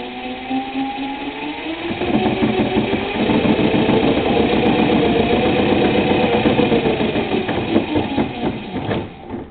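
An electric go-kart with a brushless Etek motor running rough with commutation trouble, giving a loud, buzzing whine with uneven, rattling pulses that swell after a couple of seconds and hold steady before easing off near the end.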